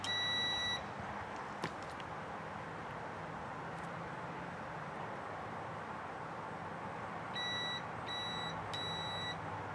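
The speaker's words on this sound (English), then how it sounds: "So now I'm going to hit the horn and see if it's continuous." Short electronic beeps from a Volkswagen bus horn, tested during restoration after rewiring, sound against a steady background hum, first once near the start, then three quick repeated beeps toward the end.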